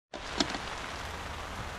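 Rain falls steadily at a campsite, a soft continuous hiss with faint patter close by, starting abruptly and carrying on alone without voices.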